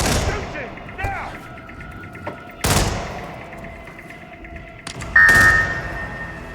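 Several sharp, loud gunshots ring out in Hitman 3, scattered across a few seconds, with one near-double burst toward the end, over a sustained electronic tone and low game ambience.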